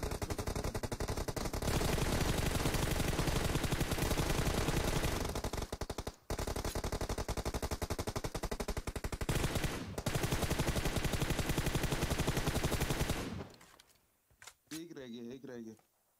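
PUBG Mobile gunfire on an iPad Pro, long sustained bursts of rapid automatic shots close and loud, briefly broken twice, then stopping near the end, with a voice talking over the shooting.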